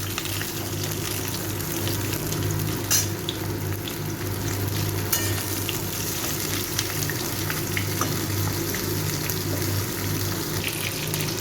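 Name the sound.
pointed gourd (potol) frying in oil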